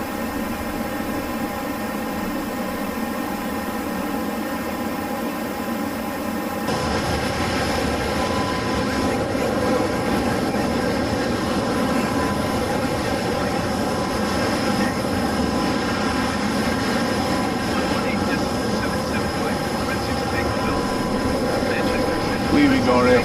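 A simulated BAE Hawk T1 jet climbs out of RAF Valley. A constant cockpit engine drone with layered tonal hum runs throughout and steps up louder partway in, with a voice talking over it.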